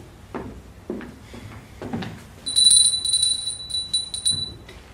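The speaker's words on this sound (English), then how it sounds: "You may also ring the bell." A hand bell rung to summon a servant in a period drawing room, sounding as a few bright, sustained rings after some soft footsteps and shuffling, fairly clear and close.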